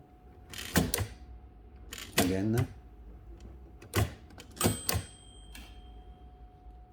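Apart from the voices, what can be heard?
1922 Empire 2 typewriter carriage stopping at tabulator stop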